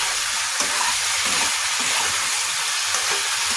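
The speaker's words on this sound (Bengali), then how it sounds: "মাছটা আমি তেলে একটু ভেজে নেব" Katla fish fried in oil, a steady close sizzle and crackle that stays even and continuous throughout, with no voices over it.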